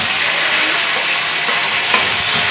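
Garlic fries in hot oil in a pan, a loud, continuous sizzle that holds steady throughout with a brief clink near the end and no talking.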